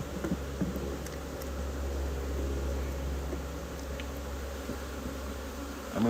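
Honey bees buzz during a February beehive inspection, a faint, steady low drone that carries on without a break.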